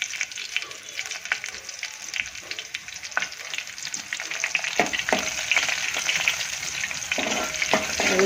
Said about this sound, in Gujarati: તેલ થોડુંક ઉમેરીને બીજું હવે એમાં જીરું નાખીએ, આ લીલા મરચાં,